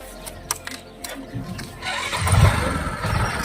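A small engine cranks and catches, settling into a rough idle, with faint clicks and scattered sounds before it starts.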